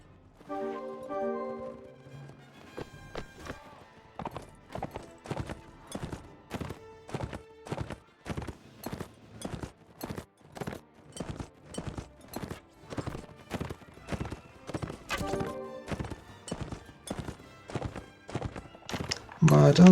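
Cavalry horses gallop across a battlefield in a Calradia video game, a rapid, steady clip-clop of many hooves pounding close and loud for the whole stretch, with a whinny early on.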